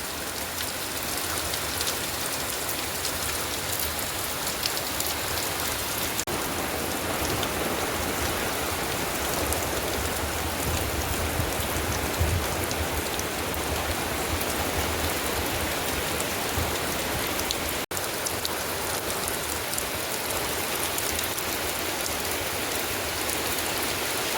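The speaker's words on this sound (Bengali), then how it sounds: "আধা ঘন্টা আগে মেঘ করে আর ঝমঝম করে বৃষ্টি হচ্ছে" Dense, steady downpour hissing continuously, loud and unbroken, like heavy rain drumming on nearby surfaces, with a light gusty wind.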